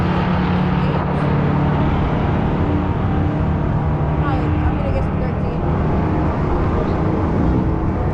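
A Honda Integra launches and accelerates down a drag strip, its engine a loud sustained roar mixed with broad crowd and track noise, with people talking underneath throughout.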